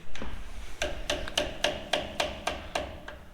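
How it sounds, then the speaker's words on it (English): A big hammer taps a metal locking plate about nine times in a steady rhythm, sharp ringing strikes close by with quiet pauses between them. "So I get the big hammer."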